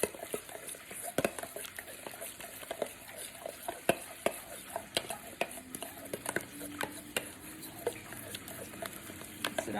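A spoon stirring a Worcestershire sauce mixture for a copycat Raising Cane's dipping sauce, sharp irregular clinks and scrapes against the bowl with soft wet mixing between them, close and fairly quiet.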